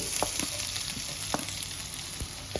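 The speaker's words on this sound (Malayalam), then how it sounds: "കുറച്ച് വെളുത്തുള്ളി ഇതൊക്കെ മൂപ്പിക്കാൻ വേണ്ടിയിട്ട് ഗ്രേവിക്കായിട്ടുള്ള കുറച്ച് വെളുത്തുള്ളി" Garlic sizzles steadily in a little oil in a pan for chilli chicken gravy, a continuous close frying hiss broken by occasional stirring clicks and scrapes.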